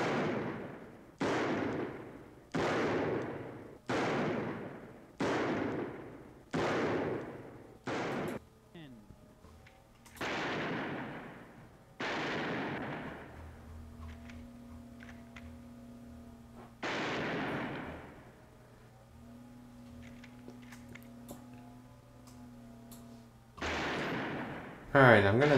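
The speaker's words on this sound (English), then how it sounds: "Ooh, that's perfect for the rifle." A run of rifle gunshot effects auditioned for a mouse trailer sound redesign: about a dozen loud, evenly spaced booming shots with decaying tails, then a few more spaced apart, with a faint tonal hum between them.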